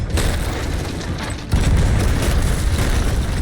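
Ship cannons firing in the pirate game Sea of Thieves produce a continuous heavy, booming rumble that jumps louder midway, dense and close, with no clearly separated shots.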